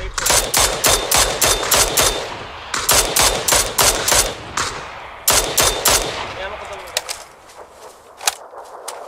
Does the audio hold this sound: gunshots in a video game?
yes